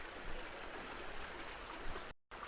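Tiny alpine stream near Cradle Mountain, Tasmania, gurgling and trickling steadily at close range, an even, continuous babble with a brief dropout just before the end.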